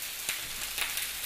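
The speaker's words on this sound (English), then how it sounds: "So just going to pop them into the frying pan here" Whole green beans sizzle in a frying pan over warm heat, a soft steady crackling hiss with a few brief louder pops, close and alone without talk.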